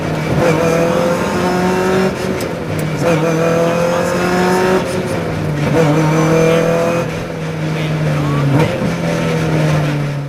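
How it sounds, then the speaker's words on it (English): Open-wheel race cars on a track during an ND2 championship race, engines droning and rising in pitch as the tires are warmed up, steady and loud, with a commentator talking over it. "Jack Wilson warming up the tires."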